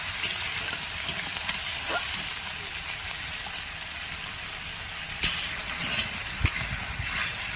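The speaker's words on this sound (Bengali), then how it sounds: "আদা রসুনটাকে ভালো করে কষিয়ে নেবো, যাতে আদা রসুনের কাঁচা গন্ধটা না থাকে" Ginger-garlic paste sizzles steadily while being sautéed in a pan for mutton curry, a constant bright frying hiss with occasional scraping taps of a spatula, close and continuous.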